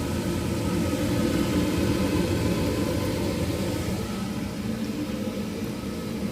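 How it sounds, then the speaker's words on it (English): An HVAC furnace blower motor runs steadily with a constant, loud, even whooshing hum of moving air that holds throughout, with no speech over it. "Hear that blower motor going."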